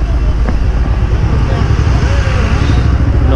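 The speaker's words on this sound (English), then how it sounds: "No, it's a truck." Loud, close rumble of a truck engine near a roadside bus stand in the Himachal hills, a steady low drone with traffic noise around it, and a voice talking over it.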